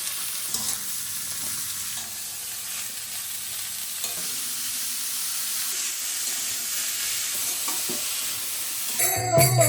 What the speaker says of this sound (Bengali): এবার বাঁধাকপিটা দিয়ে ভেজে নেব